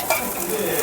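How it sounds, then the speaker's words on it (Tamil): Onion frying in oil in a pan in a restaurant kitchen, a loud, close, continuous sizzle over a brief moment. "ஃபர்ஸ்ட் வெங்காயம், எண்ணெய்."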